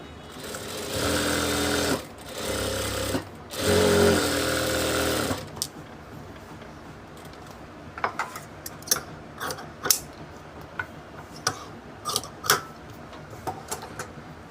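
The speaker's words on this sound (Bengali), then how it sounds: "তো আমরা চাপ দিয়ে আরেকটা সেলাই দিয়ে দিব।" A sewing machine runs a second line of stitching to make a double seam on a pair of salwar pants. Three bursts of steady motor hum are separated by short pauses, and sparse ticks and clicks of fabric handling follow.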